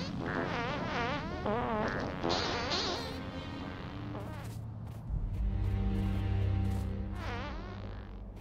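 Gaseous puffer creatures from the Seablock mod for Factorio give a run of loud, wavering, fart-like blurts and buzzy tones, with overlapping bursts and a low droning hum underneath them.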